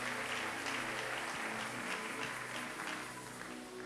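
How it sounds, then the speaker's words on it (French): Congregation at a church gathering applauding steadily, a dense continuous wash of clapping that holds at an even level, with no voices standing out. "tu acclames les Seigneurs encore"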